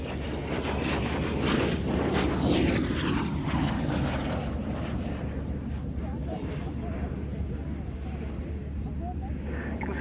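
An aircraft flies at Cosford Airshow, its steady engine roar sustained and fairly loud throughout, swelling slightly early on and fading a little toward the end, with a commentator's voice over it.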